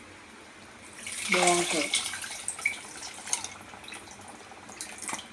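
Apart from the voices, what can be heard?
tamarind water poured into prawn curry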